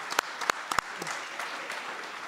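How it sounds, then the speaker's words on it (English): A studio audience claps through a live speedrunning charity marathon broadcast featuring Mike Tyson's Punch-Out!!, with a few sharp louder claps rising over a steady, moderately loud patter of applause that carries on to the end. "give yourself a round of applause"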